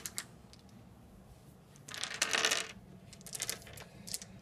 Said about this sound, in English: So let me grab the dice real quick.